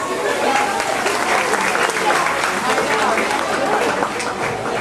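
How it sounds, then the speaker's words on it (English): A large crowd applauds continuously on the Backlot Tour at Disney-MGM Studios, a dense loud wash of clapping with cheering voices mixed in throughout. "And tell us, give a nice round of applause."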